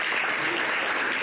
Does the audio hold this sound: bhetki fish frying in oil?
no